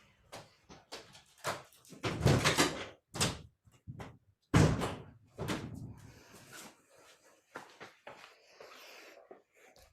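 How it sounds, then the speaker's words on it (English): A door is pushed shut indoors: scraping and rustling movement builds up, then a sharp thud lands as it closes, followed by softer knocks and shuffling nearby. No one speaks. "I'm going to shut the door"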